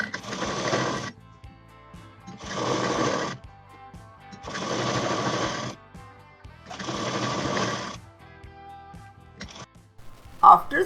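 A sewing machine stitches a round bolster pillow cover in four steady bursts of about a second each, separated by short pauses, with a few faint handling clicks near the end.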